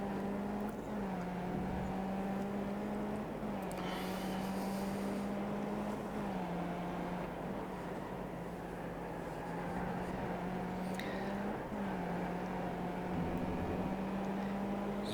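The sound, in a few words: race car driving in the iRacing video game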